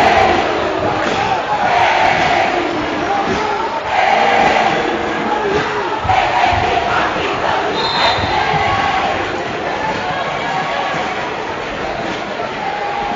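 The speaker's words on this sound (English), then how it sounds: "Crowd chanting AU." Crowd at an Andrews vs. Oakwood men's basketball game chanting AU in a rhythmic, loud, sustained roar that fills the gym, with broad cheering textures throughout.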